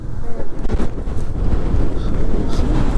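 Strong wind buffets an outdoor microphone in heavy, low rumbling gusts for a few seconds, with people's voices faintly mixed in.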